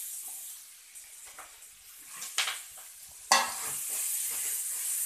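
Tempering spices frying in a pan for carrot fried rice give a soft, steady sizzling hiss, broken by a few sharp stirring scrapes and a louder burst of crackle partway through.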